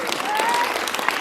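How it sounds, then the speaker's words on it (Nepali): An audience at a school Christmas program claps loudly together, a dense burst of close applause filling the whole moment without pause. "तपाईहरु सबैको लागि पनि सबैले एकचोटि जोडले ताली बजाइदिनुहोस्."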